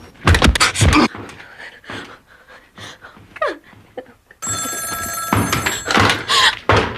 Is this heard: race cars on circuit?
no